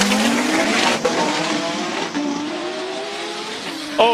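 A Toyota MR2 Super GT racing car launching hard off the start line at a Cape Town hill climb, its engine screaming loud and close through rising gear pulls with brief dips at each shift and some tire squeal.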